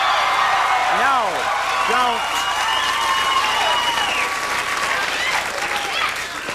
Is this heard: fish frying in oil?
no